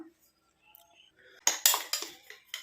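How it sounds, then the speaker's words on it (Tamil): Almond powder is poured into a small bowl in a home kitchen, giving a few soft clinks and rattling taps of the bowl and spoon that are close and fairly quiet, preceded by near silence. "இந்த பாதாம் பொடியை வந்து ஒரு சின்ன பவுலில் நம்ம கொட்டி வச்சிடலாம்"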